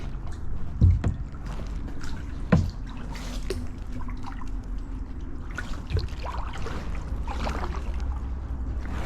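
A kayak paddles along the Merrimack River at Tyngsborough, Massachusetts, with hollow knocks of the paddle against the hull, splashes and dripping water. Strokes come irregularly, near and fairly loud, over a steady low rumble of moving water.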